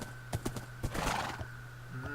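A horse whinnies in a video game, with a few clip-clopping hoof steps nearby, set against a steady low ambient hum and faint game sounds.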